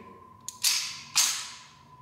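A Beretta 3032 Tomcat pistol's slide is racked. A faint click comes first, then two sharp, close metallic snaps about half a second apart, with a low steady hum in the background.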